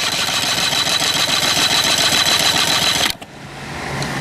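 Outboard engine on a small bass boat cranking over steadily during a cylinder compression test, a continuous rhythmic chugging churn that cuts off abruptly near the end, leaving a quieter low hum.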